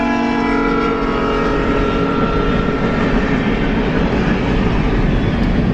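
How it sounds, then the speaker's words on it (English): Train rumbling past close by in a street setting, a loud continuous low roar with sustained tonal hum from the wheels and engine, steady throughout with no speech. "oh, there's the train."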